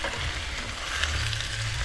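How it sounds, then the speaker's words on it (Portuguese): Fresh shrimp fry in a pan with seasonings, giving a steady, close sizzle with no talking. "Então eu irei botar logo os camarões"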